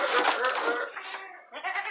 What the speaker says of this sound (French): Opération, on rentre les chèvres pour l'hiver.